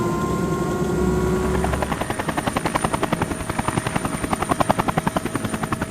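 A helicopter flies toward fishing pools on the Kola Peninsula, its rotor chopping in a fast, even pulse that grows stronger and sharper after a droning turbine start, loud and close throughout.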